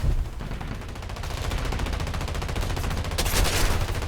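Rapid bursts of aircraft cannon and machine-gun fire from a Me-410 A-1 heavy fighter in War Thunder, a steady rattling stream over a droning engine, growing louder toward the end.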